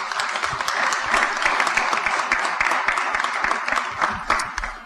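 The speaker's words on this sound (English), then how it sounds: "So a round of applause for them, please." An audience claps steadily and energetically for several seconds at a city council candidate forum, a dense, even applause with no voices over it.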